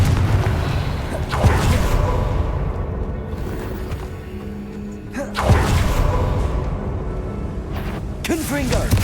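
Confringo fire spell explosions in Hogwarts Legacy, two heavy booming blasts with rumbling tails under a steady game soundscape, the second burst landing about midway, with a brief swoosh at the end.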